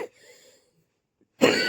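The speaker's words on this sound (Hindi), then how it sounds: "मुझे खांसी भी बहुत फिर से आ रही है" A woman gives a single loud, harsh cough near the end, after a faint breath and a moment of near silence.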